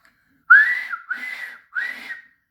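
Steam engine whistle sounding three times in quick succession, each blast a clear rising-then-level shrill tone, loud and close, standing alone against silence.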